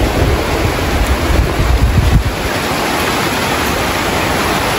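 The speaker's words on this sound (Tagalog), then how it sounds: "Oh, lakas ng hangin." Strong typhoon wind from Typhoon Pepito under Signal No. 4 in Benguet roars in a dense, loud, steady rush with gusty buffeting against the microphone, and no voices are heard.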